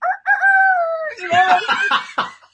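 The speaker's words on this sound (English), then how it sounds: "this recording has a freaking rooster" A rooster crows once, a long rising call followed by broken clucking notes, loud and fairly close in the background of a recorded class.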